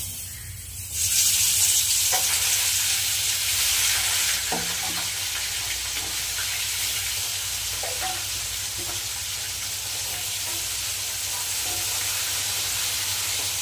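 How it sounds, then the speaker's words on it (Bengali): Aila fish fry in hot oil in a pan, a continuous bright sizzle that swells sharply as the fish go in and then settles into a steady hiss with faint stirring clicks, close and clear. "তেল গরম হয়ে গেছে এবার মাছগুলো আমি ভাজা বসিয়ে দেবো"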